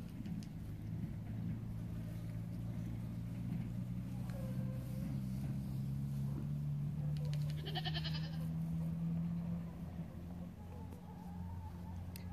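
A goat bleats a few times during practice for a goat show, the calls drawn out over a low steady rumble of background noise.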